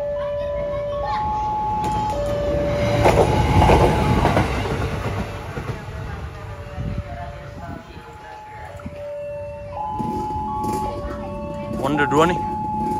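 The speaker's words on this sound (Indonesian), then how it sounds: "Wah, kereta ukur dari kejauhan." Track measuring train rolling past a level crossing in Jakarta, a steady rumble with clattering wheels and sustained horn or crossing-signal tones, with a louder swell near the middle and again toward the end, while a voice talks over it.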